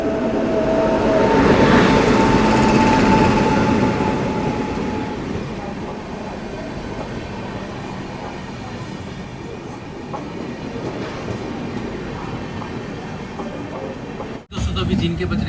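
The Tejas Express on the Mumbai–Madgaon route runs with a loud rumble and rhythmic clatter of wheels that peaks early, then eases to a steadier drone, ending in a brief dropout.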